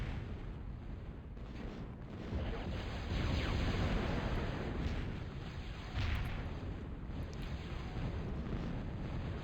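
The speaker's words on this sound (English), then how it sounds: "getting shelled out, it looks like, from the Punisher there" Artillery shelling from a Punisher cannon in a Total Annihilation match: a dense, rumbling barrage of distant booms rolling continuously under a faint high whine, with swells of heavier impacts.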